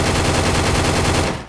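Rapid automatic gunfire from the video game Free Fire MAX rattles on in a loud, continuous burst of evenly spaced shots, cutting off abruptly near the end.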